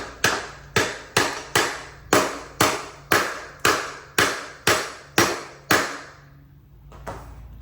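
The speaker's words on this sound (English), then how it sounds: "I just have a standard hammer here, nothing fancy, so we'll give it a little bit of a tap." A standard hammer strikes a metal dirt bike wheel about a dozen times in a steady rhythm to unseat the tire. Each blow rings briefly, then fades into a quiet pause.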